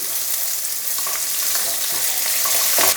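Sliced carrots and onions sizzle steadily in a hot pan for a mushroom quinoa dish, with scraping and stirring clatter close by over the continuous frying hiss.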